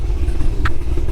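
Cammed manual C6 Z06 Corvette engine idling, a close, loud, lumpy low rumble that holds steady through a brief moment.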